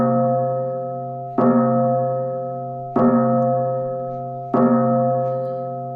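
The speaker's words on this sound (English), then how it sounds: "You want to play that bell just one more time?" A large bell rung three times during a live NBA Draft broadcast, each strike loud and clear with a bright attack and a long, evenly ringing tone that decays slowly until the next blow about every one and a half seconds.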